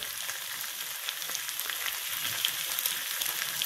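Seasoned flanken short ribs, rubbed with Adobo all-purpose seasoning, fry in a pan on the stove top, giving a steady, dense sizzle and crackle at an even level throughout, with no talking.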